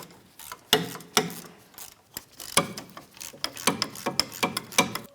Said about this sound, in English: Once you have the first bolt loosened, continue on to all others.